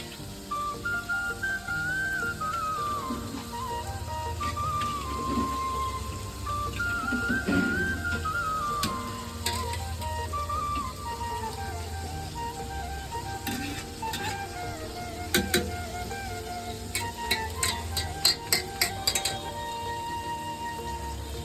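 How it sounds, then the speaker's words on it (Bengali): Meat and onions being sautéed in a pan for homemade biryani, with a steady sizzle, stirring scrapes and occasional metallic clinks and a faint whistling tone in the background. "দে মাংসটা কষিয়ে ফেল এই পেঁয়াজটা দিয়ে।"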